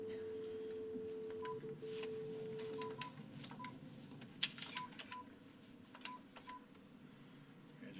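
Telephone keypad tones are heard during a public board of education meeting: a steady dial tone, then short separate beeps spaced irregularly over several seconds in a quiet room.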